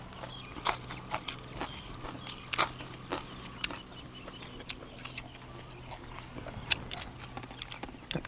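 Crunchy bites of whole crispy fried quail, eaten with a fermented fish chili dip, as a series of sharp close crackles and crunches in an uneven chewing rhythm over a low steady hum.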